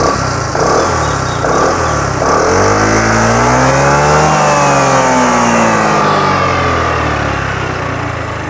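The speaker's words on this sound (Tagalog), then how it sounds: "Okay, pakinggan natin tambucho." A QJMotor Fortress 160 motorcycle's exhaust revs up loudly and close. The engine pitch sweeps up and back down in a smooth rise and fall, with no talking.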